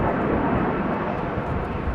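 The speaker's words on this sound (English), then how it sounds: "that's the reverser that we heard" Thrust reverser roar of an airliner landing at Amsterdam Schiphol Airport on a wet, windy day, a steady broadband rumble holding loud and unbroken throughout.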